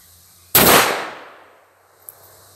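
A single loud, close rifle shot with a magazine loaded, a sharp crack that decays over about a second outdoors, followed by a small faint click.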